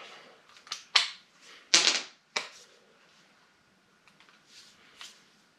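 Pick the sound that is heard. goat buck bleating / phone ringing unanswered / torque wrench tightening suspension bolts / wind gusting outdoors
torque wrench tightening suspension bolts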